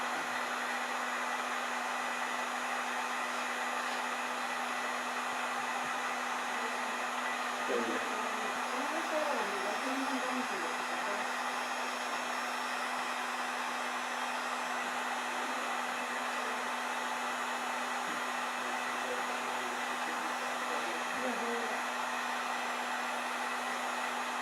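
A hot-air tool blows steadily on a primitive arrow shaft being heated for straightening, a continuous broad whooshing hiss with a faint tonal hum, close and unbroken for the whole span, with a few quiet handling sounds partway through.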